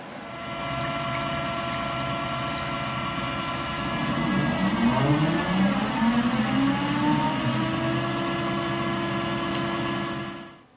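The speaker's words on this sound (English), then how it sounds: "We're going to go ahead and switch the cutter out to a chamfer and run the chamfer." A CNC mill cuts with a chamfer cutter, a steady high machine whine layered with rising and falling tonal sweeps as the spindle and feed change, continuous and fairly loud before stopping abruptly at the end.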